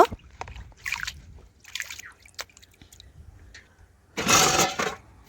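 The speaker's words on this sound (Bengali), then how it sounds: "এই দেখুন, আবারও জলটা ফেলে দেবো, একদম পরিষ্কার করে ধুয়ে নেব।" Water being poured off washed ration rice in a kitchen, a few soft splashing trickles and drips followed by a louder, fuller gush of draining water near the end, close and without talk.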